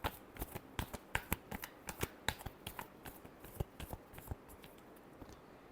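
Tarot cards shuffled by hand in quick, crisp riffles and taps, an uneven run of close, soft clicks and flutters with no voices.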